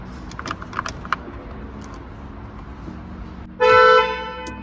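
After some light clicking and rattling, a Kia Carens car horn gives one loud, close honk lasting about half a second.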